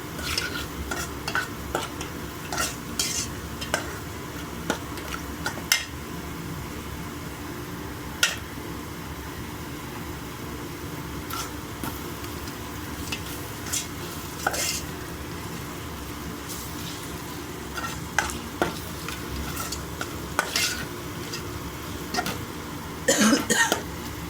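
Eggs frying in a pan with ginger-garlic paste, turmeric and salt for egg fried rice, stirred steadily with a utensil; a continuous close sizzle runs throughout under repeated scraping strokes, with a few brief coughs.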